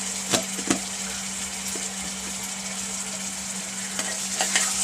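Ginger-garlic paste stirred into a black pea curry: a spoon scrapes and knocks against the pot a few times over a steady low sizzle, close and moderately loud, with no talking.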